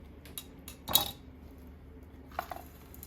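Soup bowls for Tom Kha Gai are brought over and set down in a kitchen, making two light, close ceramic clinks about a second and a half apart in an otherwise quiet room.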